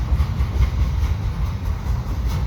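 CN double-stack freight train rolling slowly through St Henri, a close, heavy low-pitched rumble with a steady rhythmic pulsing of wheels and cars, continuous and without voices.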